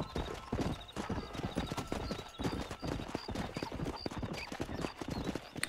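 Rapid galloping hoofbeats of a horse in the video game Red Dead Redemption clatter steadily and close, with a brief horse whinny mixed in.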